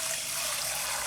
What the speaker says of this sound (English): I just do want to show you just how to rinse rice properly.